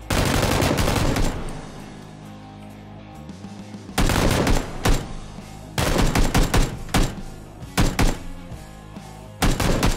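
Video game battle with a grenade fired at the player: heavy bursts of rapid gunfire and booming blasts coming in loud clusters, broken by short quieter gaps.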